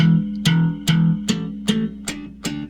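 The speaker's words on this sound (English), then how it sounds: "Now we'll be hammering notes here at the base of the neck." Electric bass guitar notes hammered on at the base of the neck, six even, sharp attacks about every 0.4 seconds, each with a low sustained tone that rings briefly, played up close with no talking.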